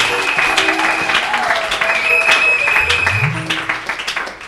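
A church congregation applauding at a seminar, with dense, steady clapping and crowd noise throughout and voices mixed in, fading toward the end.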